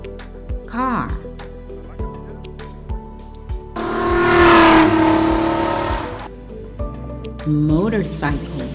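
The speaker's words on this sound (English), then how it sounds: "A car." A car engine revs up loudly in the middle and roars close by before easing off, with lighter motor noise and short tonal voice-like sounds around it.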